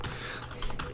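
Computer keyboard typing, a quick, steady run of close key clicks lasting about a second.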